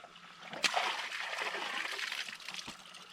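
Water poured out of a bottle onto the ground beside a hiking trail spring, a close, sustained splashing and sloshing stream lasting a few seconds, with a sharp knock at the start and another near the end.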